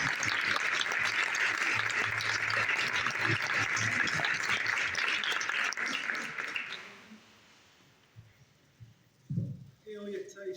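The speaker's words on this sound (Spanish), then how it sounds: "Pues un fuerte aplauso para Carlos." An audience in the village of Belchite applauds a guest named Carlos during a live radio program recording: steady, full clapping for about seven seconds before it dies away, followed by brief shuffling and a voice.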